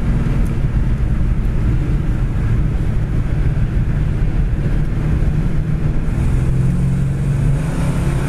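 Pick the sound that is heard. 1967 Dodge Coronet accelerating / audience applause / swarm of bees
1967 Dodge Coronet accelerating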